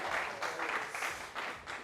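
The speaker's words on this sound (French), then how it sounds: "Et ça s'applaudit." A television studio audience applauds, a fairly faint burst of many hands clapping in a loose pulsing rhythm, heard from a distance.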